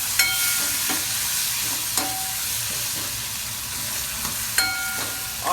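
A pan sizzles steadily as tomatoes are stirred into frying spices, a utensil scraping and tapping through the mixture every second or two, no voices.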